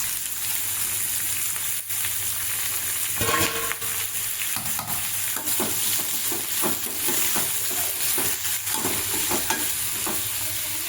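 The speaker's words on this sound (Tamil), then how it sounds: "நறுக்கி வச்ச வெங்காயம், தக்காளி, மிளகாய், கருவேப்பிலை எல்லாத்தையும் ஒன்றாவே போட்டுக்கலாம்." Chopped onion, tomato, chilli and curry leaves sizzle together in hot oil in a pan for a fish curry. The frying hiss is steady and close, broken by repeated scraping knocks of a stirring spoon, with no voices.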